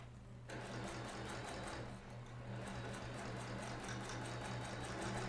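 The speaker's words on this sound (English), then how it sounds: "I'm going to sew this side, and I'm going to flip this one around." A sewing machine stitching quilt pieces for a star sampler quilt runs with a steady, fast mechanical whir and a low motor hum, with a short pause in the middle, close and alone with no talk.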